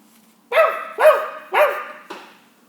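A dog barks three times in a steady rhythm, close and clear, followed by a softer fourth yip, with no talking over it, as part of a narrated Russian folk tale.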